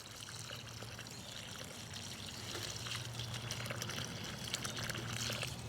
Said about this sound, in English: And now we're gonna go ahead and water it in nicely.